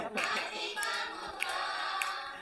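A congregation claps in steady rhythm along to a Telugu hymn during a church service, the claps faint and evenly spaced about every half second above a soft background.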